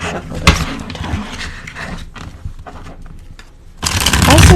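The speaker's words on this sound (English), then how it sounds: "I'm gonna shuffle this one more time." A slippery tarot deck is shuffled by hand in quick riffling bursts, with louder, denser card noise toward the end; no one talks over it.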